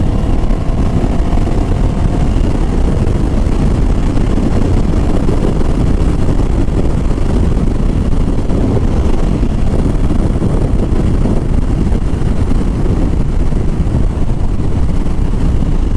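A Moto Morini baby bagger motorcycle on the move, its engine a continuous low drone blended with heavy wind rush buffeting the microphone, steady and loud throughout with no talk.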